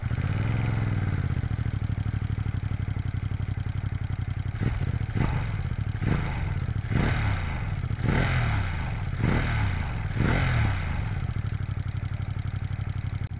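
Ducati Streetfighter V2S 2025 motorcycle engine cranking and firing up, then a series of sharp throttle blips rising over a rumbling idle, loud and close with no talking.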